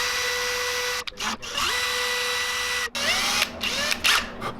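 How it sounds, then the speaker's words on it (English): A small drill bores pilot holes for hardware in a handmade wooden fishing lure, whining in several short bursts that start and stop, with brief pauses between. "I'm gonna do some measuring and some poking and drilling pilot holes for hardware"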